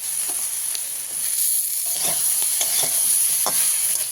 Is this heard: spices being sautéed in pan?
yes